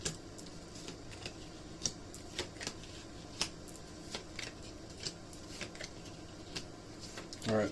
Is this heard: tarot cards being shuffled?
yes